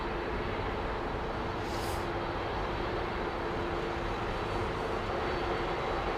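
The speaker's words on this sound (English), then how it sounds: "Nothing like the sound of a set of Pratt & Whitneys lining up and waiting." Airliner with Pratt & Whitney engines lining up for departure on runway 09R at Heathrow, a steady broadband jet roar with a droning hum, continuous and fairly distant, no voices.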